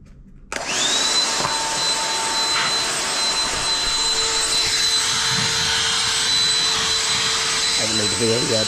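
A Black & Decker cordless handheld vacuum with a low battery switches on with a sudden loud whine and keeps running as a steady, close whirring hum. A voice speaks briefly near the end.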